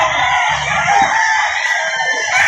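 Chickens at a poultry market in Lipa City, Batangas, clucking and crowing up close and loud in a short continuous burst, with no talk.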